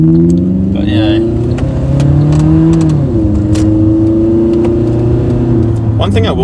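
Car engine with a custom 2.5-inch stainless steel exhaust and added resonator revs up and holds a steady drone, dipping and climbing again, loud and close, with faint high clicks near the end.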